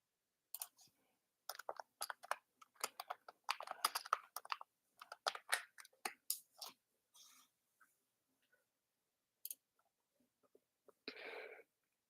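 Keys clatter on a computer keyboard in quick, uneven bursts, some sharper clicks standing out, then a few scattered taps and a short breathy rustle near the end; fairly quiet and close, with no talking.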